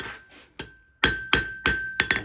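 Hammer blows forging a knife blade on an anvil, struck with controlled, deliberate force: about six sharp, ringing metallic strikes with a sustained high ring, close and loud, falling at a steady rhythm and quickening slightly at the end.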